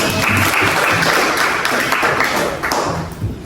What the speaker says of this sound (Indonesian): Tepuk tangan untuk Anda.